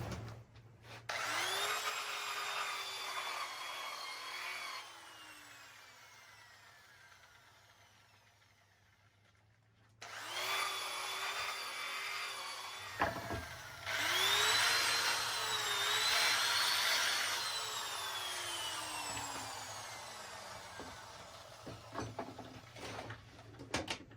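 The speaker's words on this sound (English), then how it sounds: "I need to sand this first." A power sander works over a piece of barnwood for a horseshoe bud vase. Two long stretches of whining motor and gritty abrasion run up close, with a short pause between them and a few knocks near the end.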